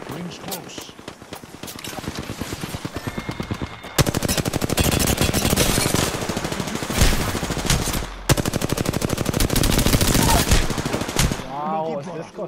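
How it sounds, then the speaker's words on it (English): Rapid automatic gunfire from the battle royale shooter Apex Legends, dense bursts of loud repeated shots nearly filling the span, with a short gap near the middle and a brief pause before the end. "I'm taking fire. Taking fire, brothers."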